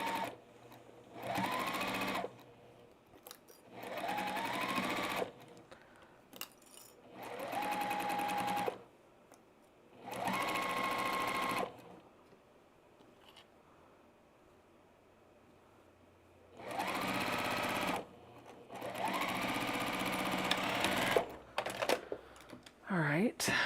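A sewing machine stitches the final seams and back stitching of a Sand Dollar quilt block, running in about six distinct bursts of rapid, even whirring with quiet pauses between them.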